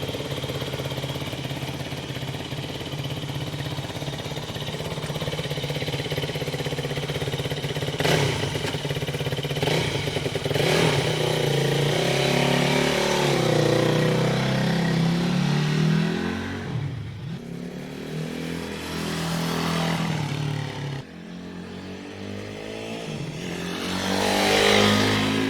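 A Yamaha WR250F dirt bike runs steadily on a road, its engine loud and close with a constant drone. Revs rise and fall as it accelerates and pulls away, then it comes back near the end.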